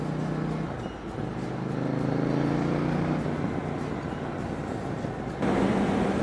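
A 2018 KTM Duke 790 twin-cylinder motorcycle drones steadily while riding at about 90 km/h in fourth gear, its engine note rising and dropping near the end with a quick shifter gear change, heard close amid wind rush.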